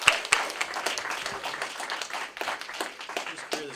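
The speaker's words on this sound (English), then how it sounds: "Again, applaud the poet." Scattered applause from a modest college audience at a poetry slam event, thin and uneven, with individual claps standing out and some murmuring underneath.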